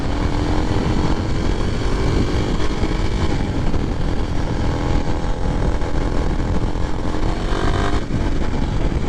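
A 2023 Kawasaki KLX 300SM single-cylinder motorcycle engine revving steadily at higher RPMs while riding, a loud continuous buzzing drone with road and wind noise, no talking.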